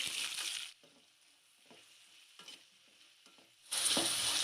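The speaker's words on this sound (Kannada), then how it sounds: "ಈಗ ಎಣ್ಣೆ ಕಾದಿದೆ, ಈರುಳ್ಳಿ ಸೇರಿಸ್ಕೊಳ್ತಾ ಇದ್ದೀನಿ." Onions drop into hot oil in a pan for fried rice, setting off a loud broadband sizzle that eases into a steady frying hiss with light stirring scrapes before the sizzle surges again, near and without speech.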